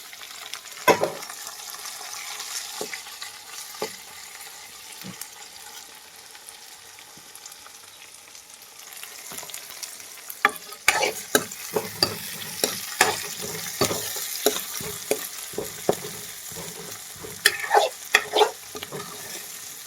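Chopped onion and tomato frying in a pan for Maggi noodles, with a soft continuous sizzle under repeated scraping and clattering strokes of a spoon, the stirring growing busier and louder in the second half.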